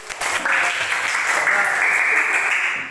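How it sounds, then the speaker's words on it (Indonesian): Loud, dense applause for the first-place team in a puzzle game, sustained and close, with a voice heard under it. "Kasih tepuk tangan yang betul"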